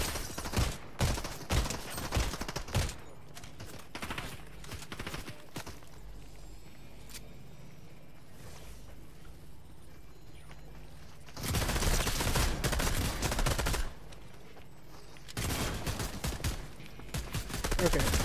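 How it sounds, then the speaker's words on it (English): Gunfire in the Fortnite video game comes in rapid bursts of sharp shots, dense at the start, then two loud sustained volleys later, with quieter game ambience between. "now they're shooting at me"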